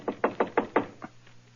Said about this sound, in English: So, just to please you, I will knock on the door.